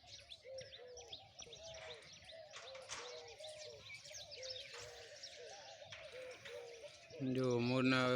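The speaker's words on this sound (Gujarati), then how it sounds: "કેટલા બધા ચકાયા છે." Sparrows chirp steadily in a village yard as they peck at scattered grain. Rapid, repeated tweets run for several seconds under a faint background, then a louder close cry breaks in near the end.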